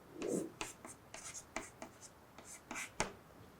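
Chalk or pen writing on a board during a quantum computing lecture, a series of short scratchy strokes and taps in irregular rhythm, fairly quiet and close, with no talk over it.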